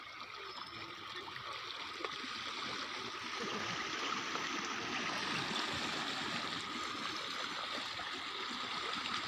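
Floodwater flows steadily, a soft, continuous rushing and trickling that rises slightly partway through and stays fairly distant and faint.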